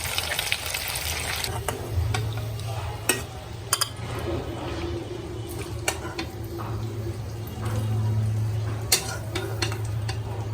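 Tikka frying in a pan, with a continuous sizzle and a low hum. Scattered clicks and utensil taps are heard throughout, along with occasional drips.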